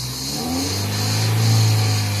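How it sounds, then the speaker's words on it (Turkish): A 2007 Honda City engine with original exhaust revs up steadily and loudly, close by, rising in pitch and holding before easing slightly. "bir gaz ver gaz sesi diyorlar"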